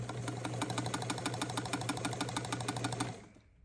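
A sewing machine stitches at a rapid, even pace, its close mechanical clatter running steadily for about three seconds before stopping abruptly, with no talk.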